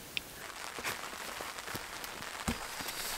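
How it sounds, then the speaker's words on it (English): Light rain patters steadily with scattered drops tapping a surface, soft and continuous with occasional louder plinks. "I knew it would rain again."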